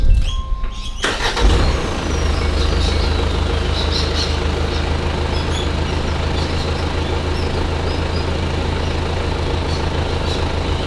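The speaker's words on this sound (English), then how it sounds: "Let's start the motor and make sure she all works, eh?" A vehicle engine cranks and catches after a brief quiet start, then settles into a steady, loud idle with a constant low drone for the rest of the clip.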